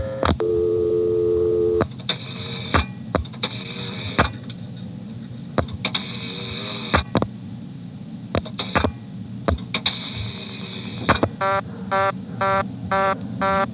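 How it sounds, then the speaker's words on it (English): Step-by-step telephone exchange in Dale City, Virginia, 1973, giving a fast on-off reorder tone in short regular bursts after a dialed number, preceded by dial tone and clicking switch pulses, loud and close on the line. "They've got an entire level devoted to the immediate reorder."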